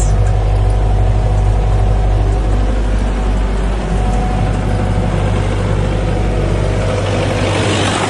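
A steady, low diesel tractor engine rumble idles continuously with a constant drone and no speech.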